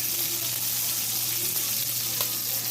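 Heavy whipping cream and butter sizzle steadily in a pan, a constant close hiss of frying with a light bubbling texture and no voices.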